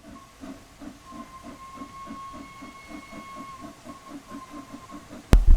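The Flying Scotsman steam locomotive in the video game Wonders of Sodor chuffs in an even rhythm under hissing steam with a thin whistle tone, then ends in a sudden loud burst.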